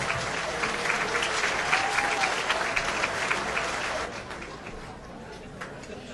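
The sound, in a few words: audience applause for the 2009 line officers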